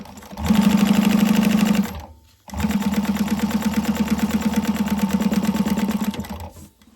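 A sewing machine stitches down cotton lining fabric for a bag in two loud, steady runs, the first about a second and a half long, then a brief pause before a longer continuous run that fades at the end.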